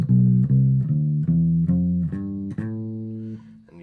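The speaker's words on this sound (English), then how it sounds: "you actually have to know the minor scale first, which sounds like this." A minor scale picked note by note on a plucked string instrument, about nine clear tones stepping in even rhythm, each ringing into the next, played alone and close.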